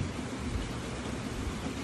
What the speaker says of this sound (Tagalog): Pero malakas yung ulan eh.